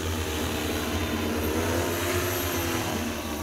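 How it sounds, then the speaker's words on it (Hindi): An agricultural spray drone spins up its propellers for takeoff, giving a steady, loud, continuous buzzing whine with no pauses or speech. "अभी ड्रोन स्टार्ट हो चुका है"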